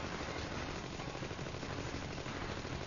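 Continuous rapid Gatling gun fire in the video game Wolf of the Battlefield: Commando 3, a steady dense rattle of shots sustained for about three seconds with no pause, fairly quiet in level.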